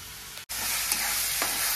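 Onions frying in a pan until reddish-brown, a steady close sizzle with soft stirring scrapes and a brief dropout near the start.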